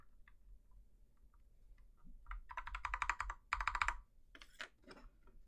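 Keys clack on an FL-CMMK MK870 mechanical keyboard with stabilized keys: a few sparse, quiet taps, then two dense bursts of rapid typing and some scattered final strokes, close and clear with no talk.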